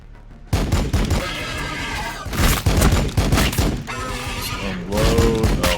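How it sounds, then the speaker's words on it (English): Rapid volley of gunfire from a Warhammer 40,000 Battlesector battle, dense overlapping shots in loud bursts with crashing impacts, sustained across the whole stretch. "Unload a whole bunch of shots into the enemy."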